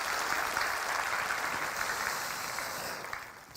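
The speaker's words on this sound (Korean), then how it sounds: "좋으신 하나님 앞에 박수로 영광을 돌려드리겠습니다" A church congregation at a Sunday worship service applauding together, a dense, even wash of clapping that carries on steadily and fades slightly toward the end.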